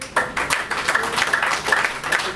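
Audience clapping at a community gathering as a guest is welcomed with a garland: brisk, moderately loud applause in uneven bursts, close by.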